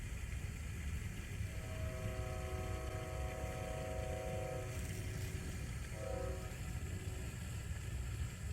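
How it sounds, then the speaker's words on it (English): A train passes at night near a Walmart parking lot, sounding two long, steady horn blasts and then a shorter one over a constant low rumble. The train is moderately distant and nobody speaks. "Just want you guys to hear the train."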